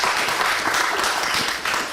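An audience at a comedy show at the Actors Temple in New York City applauds steadily and fairly loudly, a dense wash of clapping that holds for the whole short stretch.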